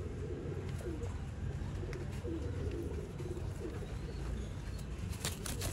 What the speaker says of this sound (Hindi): बटेरा कबूतर आ गया।